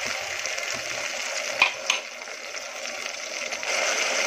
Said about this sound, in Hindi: मसालों को हम 5 से 10 मिनट भून लेंगे।